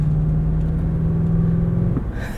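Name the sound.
Lexus GX 460 V8 engine while driving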